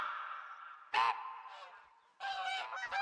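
Geese honk in the hunting game theHunter: Call of the Wild, a nasal call fading at first, then a sharp burst of honks and, after a short lull, a clustered run of loud overlapping calls.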